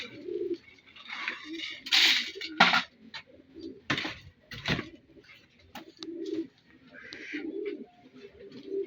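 Young pigeons in a loft cooing and calling in low, soft bursts, joined by brighter chirps and a few sharp flutters or wing claps, close by and fairly loud throughout.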